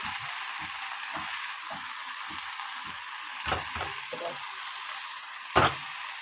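Leafy greens sizzle softly in a pan that already holds lightly fried onion, garlic and chili, a steady hiss broken by repeated spatula scrapes and two louder knocks.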